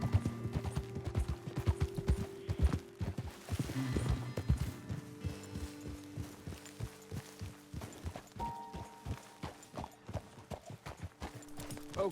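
Horses from Red Dead Redemption walking over hard ground, hooves clip-clopping in a steady, close rhythm at low volume, with a brief snort or whinny and no talk over the steps.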